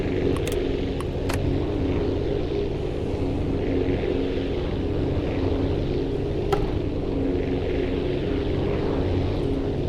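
A propeller aircraft engine held at full throttle in the flight game Aviassembly, a loud, steady droning rumble that runs unbroken throughout, with a few faint clicks on top.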